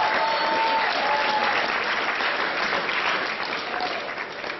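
Loud, dense applause from an audience greets former Nebraska and NFL offensive lineman Brenden Stai, a sustained roar of clapping that stays full and then eases slightly near the end.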